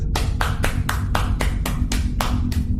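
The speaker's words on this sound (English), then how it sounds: "Round of applause, everyone." Steady applause from a crowd, about three seconds of dense, continuous clapping with regular surges, no voices over it.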